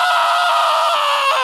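A man imitates the high, strained scream of a cartoon dog, voiced as Courage the Cowardly Dog at a convention panel. One loud, sustained shriek holds steady for over a second without stopping.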